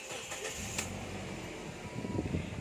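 A Toyota Fortuner's air conditioning runs as a faint, steady fan-like hum and whoosh with a low engine rumble beneath, rising slightly near the end.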